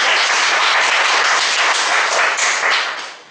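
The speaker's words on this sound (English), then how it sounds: "Big applause for." A meeting-room audience at a speakers' forum breaks into steady, dense applause, many hands clapping loudly together before the sound fades at the end.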